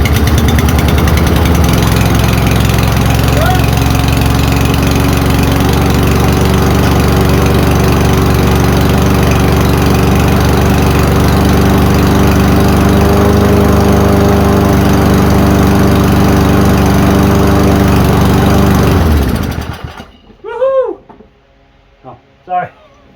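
An Ariens lawn mower engine runs loud and steady close by for about twenty seconds, then cuts out, leaving short bursts of voices.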